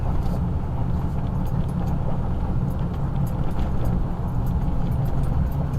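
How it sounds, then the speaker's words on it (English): Traxxas XO-1 remote control car, a 100 mph model, cruising on a street: a steady low rumble with a faint whine and small clicks, constant throughout and without talking. "We got an XO-1 on the road, guys. 100 miles per hour car."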